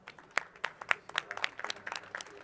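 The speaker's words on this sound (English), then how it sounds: "I want to give a big round of applause to all of the projects that are here." A small audience at a conference launch event for a conservation initiative claps. The claps are sparse and distinct, coming from a handful of people in an uneven, scattered rhythm that builds slightly toward the end.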